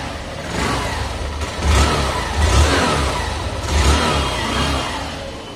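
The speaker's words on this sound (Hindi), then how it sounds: "मैं आपको इसका मेन चीज़ सुना देता हूँ, जो कि इसका एग्जॉस्ट साउंड" A 2023 Hero Super Splendor Xtec BS7 motorcycle engine idles roughly, then the exhaust revs up in three or four throaty bursts that rise and fall, close by.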